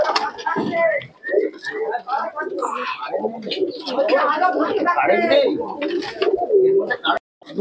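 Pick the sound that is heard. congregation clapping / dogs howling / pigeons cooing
pigeons cooing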